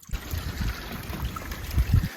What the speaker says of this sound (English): That's more of a trickly quieter sound.